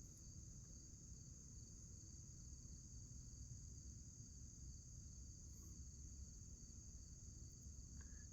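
Insects and tree frogs chirping outdoors at night. A faint, steady high-pitched chorus drones without a break across a quiet background, with no talking.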